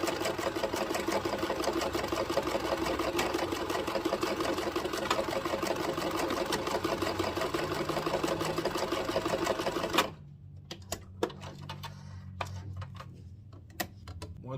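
A sewing machine stitches a homemade waistband front to back, running steadily and loudly for about ten seconds, then stopping, followed by a few faint clicks and handling noises.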